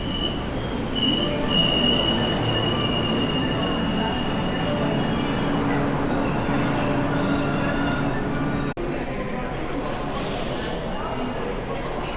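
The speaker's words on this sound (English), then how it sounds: "The train to Nara departs at dawn" Loud continuous rumble of a train to Nara, Japan, running on rails, with high squealing wheel tones and a rattling clatter throughout, heard from close by.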